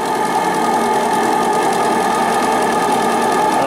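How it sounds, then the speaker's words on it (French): A Stuart D10 live steam water pump runs beside a noisy gas burner, giving a steady, loud roaring rush with a faint rhythmic knocking underneath, continuous and close with no pauses. "Ce qui est ennuyeux, c'est que le brûleur fait beaucoup de bruit."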